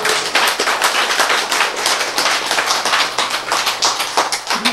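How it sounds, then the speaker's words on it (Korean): An audience applauds in an indoor talk setting, with dense, continuous clapping held at a steady level from start to finish. "네, 박수."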